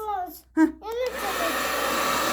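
A voice speaks briefly, then a hair dryer switches on and blows a steady, close whooshing roar, used to float colored balls in the air.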